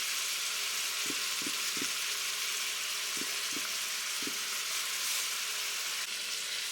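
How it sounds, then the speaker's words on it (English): Beef steaks and onions frying in a pan give off a steady, loud sizzle, with a few soft knocks of a utensil against the pan in the first half. "Now while my beef is cooking with my onions back there"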